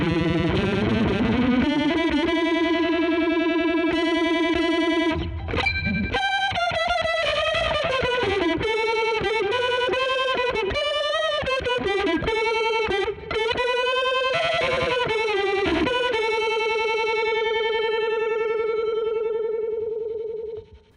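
A sustained fuzzy, distorted synth-like tone with warbling modulation that slowly sweeps and shifts, loud and continuous with brief dropouts, no voices.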